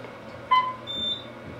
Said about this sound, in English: There's a generic beep in the back.